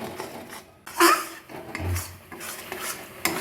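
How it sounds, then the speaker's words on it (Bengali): A spoon scraping and stirring kheer filling for bokul pitha in a pan, with repeated metallic scrapes and clinks at an uneven rhythm and a faint sizzle between strokes. "নেড়ে নেড়ে খুব ভালো করে শুকিয়ে নেব মতো শুকিয়ে একটা ক্ষীর তৈরি করে নেব"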